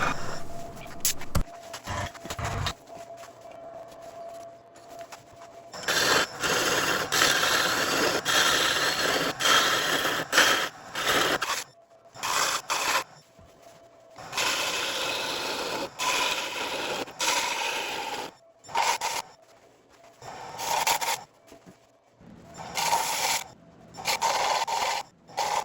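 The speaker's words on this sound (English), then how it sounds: "drilling a hole in the center of the piece" Wood on a lathe is bored at the centre of a Bird's Eye wood bowl, giving a rough, rasping, scraping sound that comes in long bursts broken by brief gaps, fairly close and without voices.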